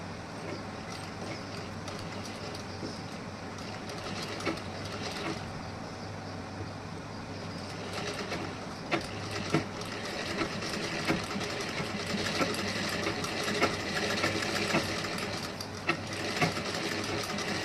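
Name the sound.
sewing machine stitching blouse fabric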